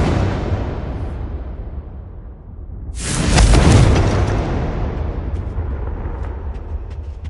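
A Confringo explosive spell blast in the game Hogwarts Legacy, a loud sudden boom at about three seconds that rumbles and slowly decays over a low background roar.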